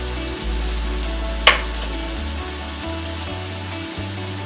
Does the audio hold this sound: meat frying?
yes